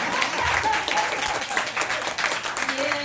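An audience applauds a preacher, scattered claps rising and falling in short bursts with voices and murmurs mixed in underneath.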